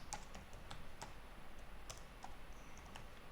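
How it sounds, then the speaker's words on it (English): Someone types on a computer keyboard, producing faint, sparse keystroke clicks in a quiet room with no talking. "now I'm going to type my local IP address"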